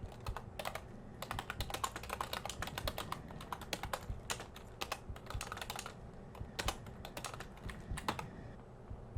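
Rapid computer keyboard typing during a video game, keys clattering in irregular bursts with dense clicks throughout, close and fairly loud, no voices.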